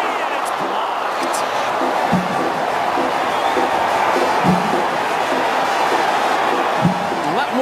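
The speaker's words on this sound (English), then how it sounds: "That woke up the crowd here at Dry Pink Stadium." Stadium crowd cheering at a soccer match at Inter Miami's home ground, a dense, continuous roar at steady loudness, with a commentator speaking over it.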